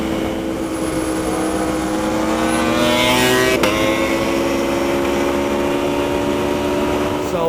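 An Aprilia RSV4 1100 Factory and a Ducati Panigale V4 R pull hard side by side in third gear at Barber Motorsport Park, engines whining upward in a rising, sustained howl that peaks and steadies as they run neck and neck.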